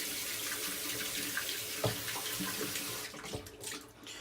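Tap water runs steadily into a sink while a shaving soap puck is rinsed, a close, continuous splashing rush that thins and breaks up into uneven trickles near the end.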